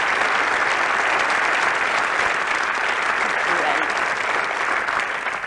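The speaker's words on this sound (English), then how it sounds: "I think they deserve a big round of applause." A studio audience delivers a loud, continuous wash of applause that stays steady and full throughout.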